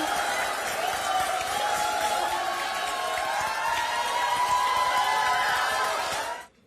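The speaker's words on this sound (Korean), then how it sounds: "박수와 함성 부탁드립니다" A political rally audience in Daegu applauds and cheers, a dense, sustained wash of clapping and shouting voices that stays level and then cuts off abruptly.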